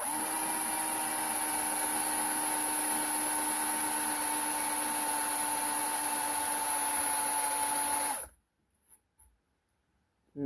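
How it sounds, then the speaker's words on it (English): A power drill whines steadily and loudly for about eight seconds while installing adjustable coilover shocks on a 1935 Ford, then cuts off abruptly, leaving near silence with a couple of faint knocks. "Let's drive the drill."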